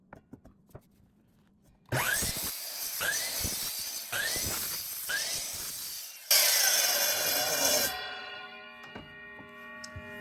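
Power saw cutting through wood pieces for a Kubb lawn game set, with four loud rhythmic cutting passes followed by a longer sustained cut and a ringing, resonant tail as the blade winds down, fairly close.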